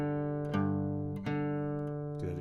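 Fingerstyle blues guitar: plucked notes ring out softly in a slow pattern, the first string added over a bass pattern, picked strings sounding in turn and sustaining between plucks.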